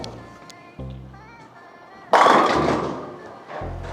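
A Kinetic Black Ice bowling ball hits the pins with a loud sudden crash in a bowling alley, then a decaying clatter that rings down over about a second, with background hum and muffled alley noise around it.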